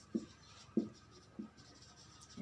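Marker or chalk strokes on a classroom board, three or four separate short scratchy bursts spaced about half a second apart, faint and close, with no talking.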